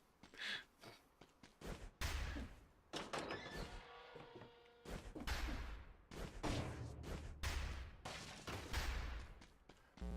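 Cannon fire in the Dead Cells video game: heavy booming blasts and thuds arrive in irregular bursts among game effects and music, loud and close, with no talk.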